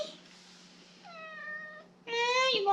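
A house cat meows twice indoors, a drawn-out tonal call followed by a louder, rising-then-falling meow, close by over a faint steady hum.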